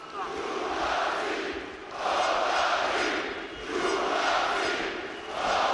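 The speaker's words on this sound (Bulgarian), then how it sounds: "Феноменална публика в Арена Армеец." Big arena crowd at a heavyweight boxing match in Arena Armeets, Sofia, chanting and cheering in loud rhythmic waves that swell roughly every two seconds, filling the space with no clear talk over it.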